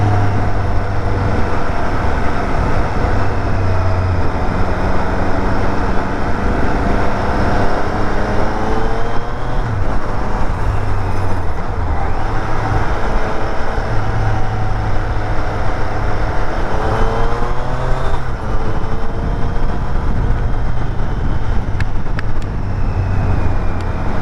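A Triumph Street Triple RS motorcycle engine drones steadily while riding, loud and continuous, with wind rush and rising and falling revs.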